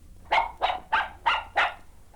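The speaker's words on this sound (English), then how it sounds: "And that was a tiny Pekingese." Five quick, sharp yappy barks from a tiny Pekingese dog, evenly spaced and close by, with no other sounds.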